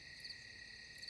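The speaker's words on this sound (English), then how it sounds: "You've got some crickets" Crickets chirp steadily in nighttime woods, a faint, continuous high trill with no voices.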